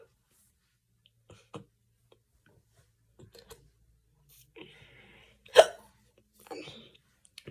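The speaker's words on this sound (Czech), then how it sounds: "mám škytavku." Hiccups from a woman, a few faint, sharp little catches spread through a quiet room, one noticeably louder than the rest.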